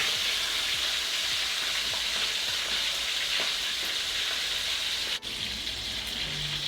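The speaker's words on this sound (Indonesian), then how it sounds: "Lanjut kita mau goreng ikan yang tadi kita lumuri pakai garam." Salted fish frying in hot oil fills the air with a steady, dense crackling sizzle close by, continuous throughout with one brief dip near the end.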